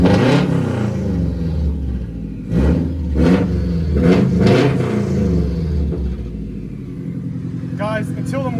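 Subaru WRX STI engine with a catless downpipe, running lean, revving loudly in repeated rising surges, close and raw, with people talking over it.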